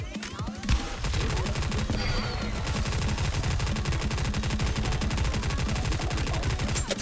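Rapid, continuous automatic gunfire from the NIKKE shooter game, a dense machine-gun rattle of fast repeated shots running loud and steady after a brief opening, with no speech over it.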